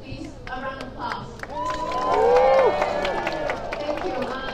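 A crowd at an anti-Asian hate rally in Philadelphia claps and cheers, a swell of applause rising midway and holding under voices and general chatter.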